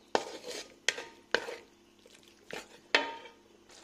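Minced mutton kheema and peas being stir-fried in a pan: five sharp scrapes of a spoon against the pan at an uneven pace, each trailing off into a soft sizzle, close and without talk.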